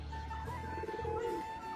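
Pigeons cooing nearby in a soft, low, rolling call that carries over a quiet outdoor background, with no one speaking.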